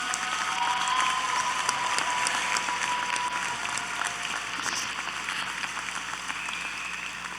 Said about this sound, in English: I would like everyone to join me in applauding our parents and teachers right now